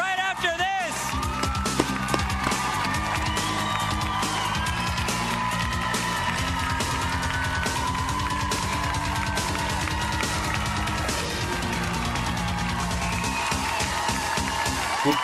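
Studio audience on a kids' game show cheering and whooping loudly and continuously, with shouts and applause blended under music, close and dense throughout.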